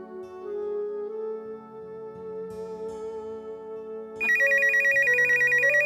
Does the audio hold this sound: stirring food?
no